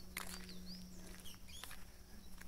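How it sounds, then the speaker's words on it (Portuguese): Faint bird chirps and short whistled calls scattered over a steady low hum, with a few brief rustling bursts, at a countryside farm away from traffic. "A gente vê os pássaros cantando"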